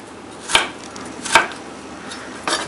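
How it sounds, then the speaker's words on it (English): A knife cuts ginger into narrow strips on a cutting board, giving three or four crisp, loud chops spaced roughly a second apart, with no talk. "just cut it into these kind of narrow strips."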